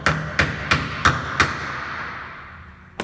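A wheel balancing weight is hammered onto a wheel rim: five sharp metallic taps about a third of a second apart, then a pause and one more tap at the end, close and clear with no talk.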